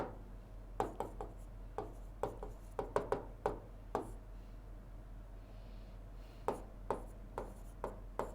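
Pen or chalk writing a note during a grammar lesson gives scattered short taps and scratchy strokes, irregular and fairly faint, over a low steady background hum.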